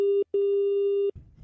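A telephone busy signal sounds during a call, two loud steady electronic tones, a short one and then a longer one, separated by a brief gap and followed by a soft click of line noise.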